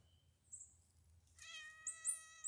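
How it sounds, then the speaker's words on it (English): Cat meowing nearby outdoors, a soft short call followed by a longer, clear, rising meow and a few more brief mews, alone with no talk. "If you'll quit meowing at me."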